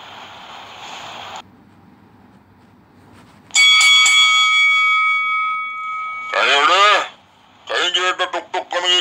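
A cartoon bell rings out in one bright, sustained tone that fades over a few seconds, followed by voices speaking in a Balochi animated cartoon.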